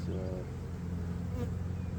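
A steady, dense buzzing of many honey bees fills the air close up during a hive inspection, with a low hum underneath and no voices.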